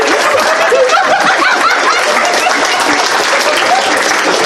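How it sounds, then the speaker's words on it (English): A convention crowd at a charity comedy show claps loudly and continuously for a sound effects person, with scattered chuckles and snickers mixed into the dense applause throughout. "Give a round of applause for our sound effects person, guys!"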